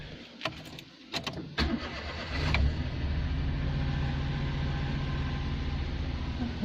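A Perodua Nippa small car cranks with several short starter bursts, then catches and settles into a steady close-up idle.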